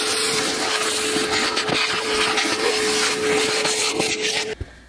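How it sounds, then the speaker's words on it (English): A household vacuum cleaner hoovers indoors with a steady motor whine and airy rush that runs evenly for several seconds before switching off abruptly, leaving near silence. "I needed to hoover that"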